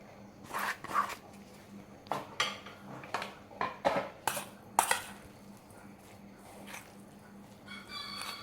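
A utensil scrapes and clinks against a pan in a rhythmic series of stirring strokes, mixing fried fish into coconut sambal, fairly close and moderately loud.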